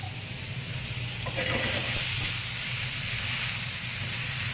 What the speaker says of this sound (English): Not a lot of sizzle when they hit the pan because we remove the excess moisture